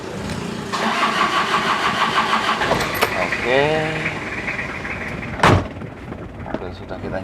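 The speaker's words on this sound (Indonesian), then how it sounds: "mobil sudah kita nyalakan guys." A car engine cranks and catches, then settles into a steady idle close by, with a brief spoken word and a short sharp knock partway through.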